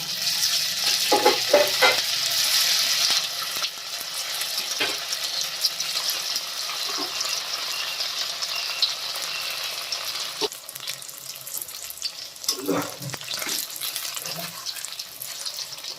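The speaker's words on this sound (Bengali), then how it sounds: "তেল গরম হয়ে গেছে, এবার পনিরগুলো ভেজে নেব।" Homemade paneer fries in hot mustard oil in a pan, a continuous close sizzle with a few bursts of clattering and turning.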